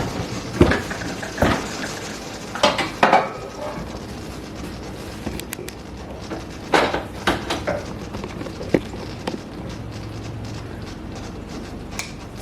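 Glass canning jars holding sweet potatoes lifted one by one from a pressure canner, giving scattered clinks, knocks and clatters of glass on metal at close range with a faint low hum between them.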